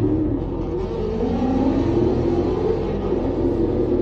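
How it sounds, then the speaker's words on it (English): A drag racing car makes a test pass at a Streetcar Showdown event, a steady, loud engine rumble and roar sustained without a break, heard close with no voices. "back for pass number 3. This is just a test pass."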